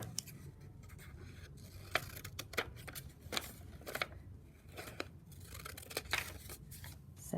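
Scissors snip steadily through old book pages while making paper flowers, a run of close, crisp cuts with faint paper rustling in between and no talking.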